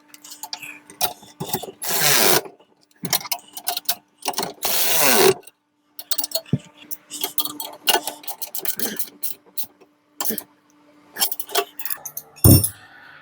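Bolts are tightened on a custom lowback bucket seat mount for a VW Beetle, with metallic clicks, ratcheting and rubbing in bursts, interrupted by louder scraping and handling noises close by.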